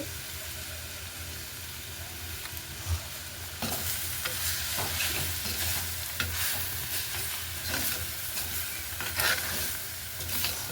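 A mixture with turmeric powder fries in a pan while being stirred, giving a bubbling sizzle that grows louder partway through, broken by repeated scraping strokes of the spoon against the pan.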